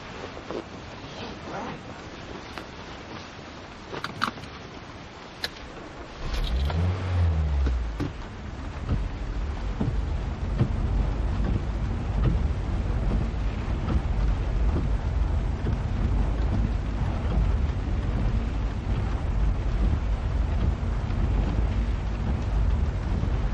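Sudden rain in the video game Love and Deepspace, during a car ride with Zayne: a steady, loud hiss of downpour swells in after a quieter opening, with a brief low rumble as it starts, then continues unbroken.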